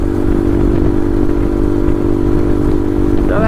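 A Bajaj Pulsar NS 200 motorcycle's exhaust drones steadily and loudly while riding, with a constant low engine rumble and no talking.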